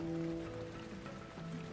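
Steady rain patters across a surface in Ratchet & Clank: A Crack in Time, a continuous hiss with droplet texture, beneath sustained tonal game music hum.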